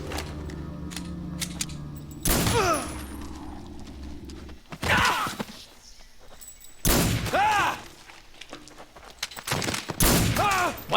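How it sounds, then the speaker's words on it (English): Bursts of gunfire in the video game Metal Gear Solid 3, several loud sharp volleys spaced a second or two apart, ringing out with echoing tails between quieter gaps. "You heard the first gunshot."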